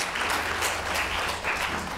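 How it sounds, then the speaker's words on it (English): An audience at an Asian Pacific American Heritage Month celebration applauds, a steady wash of many hands clapping that stays even and fairly close for the whole stretch, with no voices over it. "Yeah, we should clap about that."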